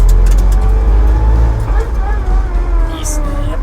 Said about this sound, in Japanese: やっぱこのミッションの音は憧れますよ